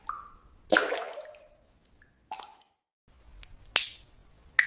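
Drips fall from a ceiling onto a dark corridor floor in a horror story, heard as a few sparse, wet plops spaced irregularly, close and fairly sharp, with no talking.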